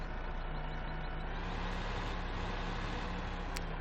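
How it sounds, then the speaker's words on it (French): Truck driving in the video game Farming Simulator 2015, a steady engine drone with a low hum that holds evenly throughout, plus a brief high click near the end. "On va reprendre le camion."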